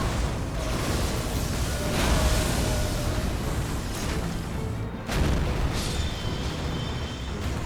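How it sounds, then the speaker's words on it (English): Cannon fire in the video game Elden Ring: Shadow of the Erdtree, a loud, dense stretch of booming blasts with a heavy low rumble, strongest near the start and picking up again partway through, with no talk. "now we'll just shoot him in the face. Cannon! Fire!"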